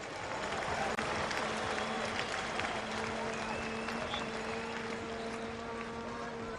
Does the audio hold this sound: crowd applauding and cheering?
yes